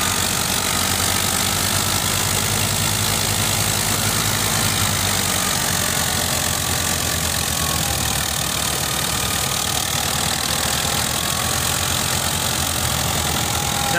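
A Fiat 640 tractor engine powers a wheat thresher working damp wheat, giving a loud, steady, continuous drone with a rattling mechanical churn that strains as if close to stalling, with no voices.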